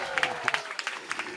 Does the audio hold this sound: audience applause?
yes